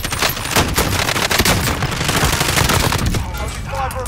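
Rapid gunfire in the Call of Duty video game during an urban downtown firefight, dense loud bursts of automatic shots filling the whole stretch before easing slightly near the end.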